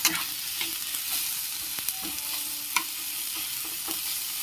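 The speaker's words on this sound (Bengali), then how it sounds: "এইভাবে পেঁয়াজ টমেটোটা ঘি দিয়ে বা বাটার দিয়ে যেভাবে হোক আপনারা ভেজে নেবেন" Onion and tomato fry in ghee or butter in a pan, with a constant close sizzle and occasional spatula scrapes and taps; nobody speaks.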